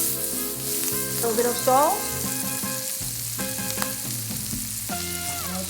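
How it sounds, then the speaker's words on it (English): Shallots and garlic sautéing in butter and oil in a pan, a bright continuous sizzle with stirring scrapes, while music plays and a voice speaks briefly. "Saute some shallots, some garlic, just a little bit"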